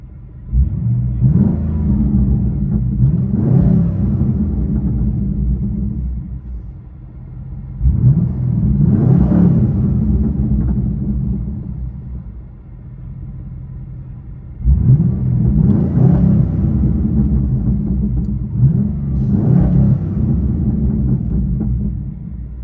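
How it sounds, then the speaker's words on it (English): A 2009 Pontiac G8 GT with a 6.0L V8 and straight-pipe exhaust, muffler and big resonator removed, revs loudly in three long rising and falling pulls, a deep raspy rumble heard close from inside the car. "Pontiac G8 Beast, straight pipe, other than 2 baby resonators in the middle. So we took the big resonator and the muffler off."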